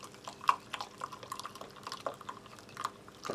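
Hot water poured from a kettle into a mug of instant coffee from a British Ration X vegan MRE, a faint close trickle with small drips and splashes, quiet and without talk.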